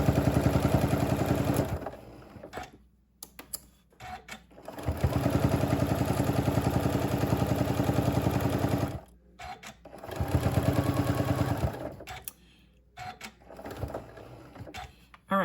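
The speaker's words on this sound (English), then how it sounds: "I'm gonna sew down a 1/4 of an inch, attaching the binding to the front of my pillow" A sewing machine stitches binding onto a charm pack pillow in rapid, steady bursts of mechanical whirring and clatter, stopping and starting several times with quiet pauses between runs.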